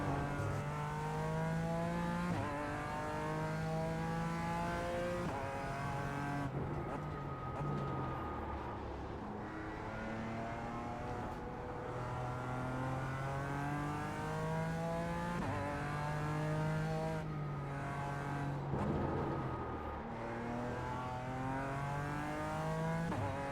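Race car engine revving through repeated gear changes on the Nordschleife in a racing video game, a steady loud drone that climbs and drops in pitch over and over, with no talk.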